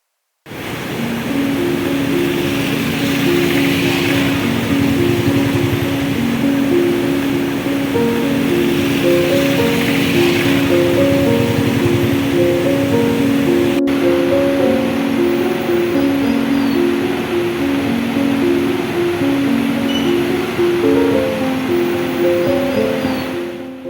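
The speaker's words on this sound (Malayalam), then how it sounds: "രാവിലെ മുതൽ പുഴ കരകവിഞ്ഞൊഴുകിയിരുന്നു" A flooded river overflowing its banks rushes in a strong current past the old Cochin bridge, a steady, loud broadband roar that runs without a break, with a tonal musical bed underneath.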